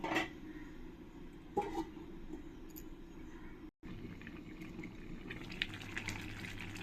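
Water poured into a simmering soybean and egg curry, a soft close splash and gush of liquid with low bubbling and a few clinks, faint, with no talk.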